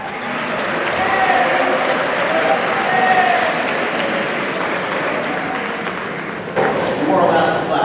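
An audience in a church setting during a Mass breaks into sustained applause, a dense, loud wash of clapping that carries throughout, briefly dipping before swelling again near the end.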